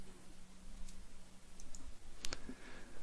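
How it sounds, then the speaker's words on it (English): A computer mouse clicks near the end of a quiet stretch, a couple of sharp close clicks over soft background hiss, with a few fainter ticks before them. "By right-clicking again"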